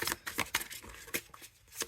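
Tarot cards being riffle shuffled up close, heard as a quick series of soft papery flutters and snaps with uneven rhythm, fairly quiet and with no talking.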